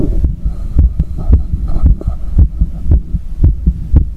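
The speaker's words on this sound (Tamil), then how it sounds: "அவருடைய இதய துடிப்புகளோட சத்தம் அவருடைய காதுகளுக்கு" A fast heartbeat sound effect, steady deep throbbing thumps in quick regular pairs with a low hum beneath, loud and close with no talking.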